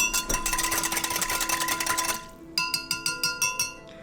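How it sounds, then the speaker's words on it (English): A whisk clinks against a glass container while stirring a homemade all-natural cleaning spray mixture, first a quick continuous rattle, then a brief pause and about eight sharp, evenly spaced taps, close and fairly quiet. "I'm gonna whisk it together a little bit."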